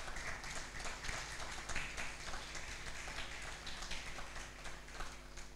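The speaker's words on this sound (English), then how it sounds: "Please welcome him with a warm hand clap." A conference audience applauds with steady hand claps, a dense, even wash of clapping that holds at moderate level throughout without a break.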